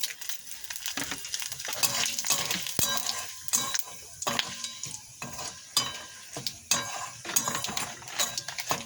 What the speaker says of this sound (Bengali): এই যে তেজপাতা দিয়ে দিলাম আমি ফোড়নে